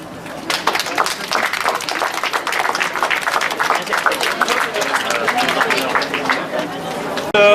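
Steady audience applause fills a hall at a Paris event as two people are honored, continuous and fairly loud with crowd murmur blended in, ending abruptly.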